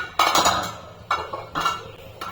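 Metal lid lifted off a pan cooking onion dosa, giving a few clattering clinks and scrapes in short bursts, close and fairly clear with no talking.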